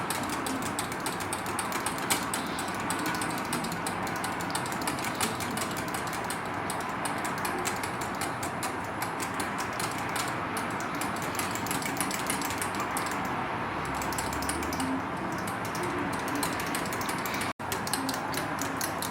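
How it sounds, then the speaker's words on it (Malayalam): Milk pudding mixture hand-whisked in a pot, a steady fast ticking and scraping of the whisk against the metal that runs on without pause for the whole stretch, close and fairly quiet. "നന്നായിട്ടൊന്ന് കുറുകി വരണം, അതുവരെ ഒന്ന് ബീറ്റ് ചെയ്ത് കൊടുക്കണം."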